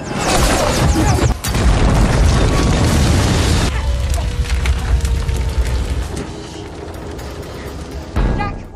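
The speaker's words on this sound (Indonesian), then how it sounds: "helikopter itu tersangkut ke sebuah kabel yang menyebabkan helikopter tersebut jatuh dan meledak" A film scene of a helicopter snagging a cable, crashing and exploding: a loud, sustained crashing explosion with splintering debris and deep rumbling, fading into a lingering roar with scattered crackles and a final thud.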